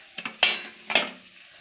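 Vegetables fry in a pan on a gas stove, with a few short scraping stirs and clinks of a utensil against the pan, the sizzle fading between strokes, close and alone without voices.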